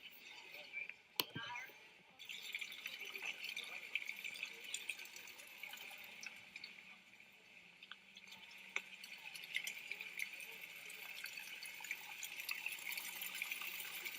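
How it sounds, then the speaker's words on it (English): Steady rushing water like a waterfall runs throughout at low level, a continuous hiss beneath occasional faint bird calls and a brief louder knock near the start. "I guess that was the water noise in the background."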